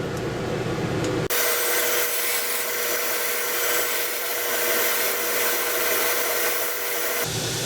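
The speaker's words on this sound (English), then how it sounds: "I gotta true that up on the sander." A power sander trues up the cut corner of a knife handle in a steady, loud, continuous grinding whir that holds for about six seconds, then cuts off abruptly.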